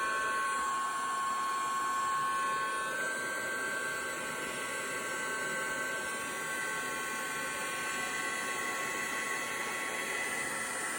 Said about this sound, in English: bring in my heat tool, and then as it works, you can see it will melt the embossing powder